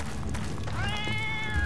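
A pet cat in the video game Fate gives a single clear, sustained meow partway through, set against constant game music and ambience, with no talk.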